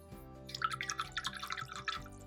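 A watercolor paintbrush swished and rinsed in a small water jar gives quiet, close splashing and dripping with light clinks, a rapid run of wet sounds over soft background hum.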